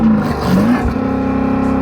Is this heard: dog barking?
no